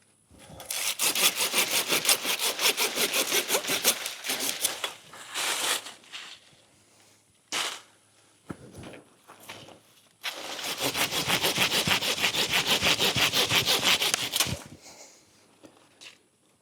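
A Silky Zubat hand saw cuts through oak limbs in two long bursts of fast, steady back-and-forth strokes, loud and close, with a few isolated rasps and pauses in between.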